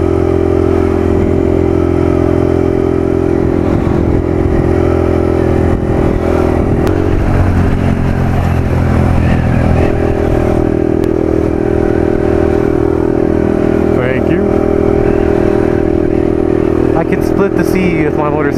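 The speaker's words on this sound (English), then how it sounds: "Split the sea with my motorcycle." A motorcycle engine drones loudly and steadily at close range while lane splitting through congested Los Angeles traffic, with traffic noise and occasional clatter around it.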